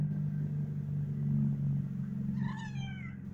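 A cat meows a few times near the end, rising then falling cries over a steady low rumble of background hum, close and moderately loud.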